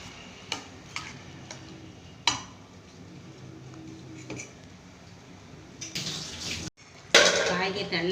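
Ladle stirring kuzhambu in a metal pot at home, giving scattered clinks and scrapes against a low kitchen background, with a louder clatter of utensil on metal near the end.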